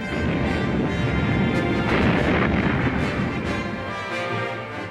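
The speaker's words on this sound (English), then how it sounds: "The amphibious landing is preceded by a massive bombardment delivered by Allied aircraft and ships." Massive Allied bombardment from aircraft and ships before the D-Day amphibious landing, a dense, loud, continuous roar of blasts and crashing explosions that barely lets up for five seconds.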